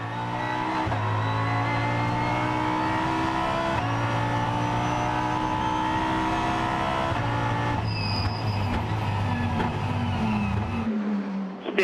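Audi R8 LMS race cars run by WRT roar loudly at the Spa 24 Hours, engines held at high revs with shifting pitch throughout, continuous and close, ending with a brief drop near the end.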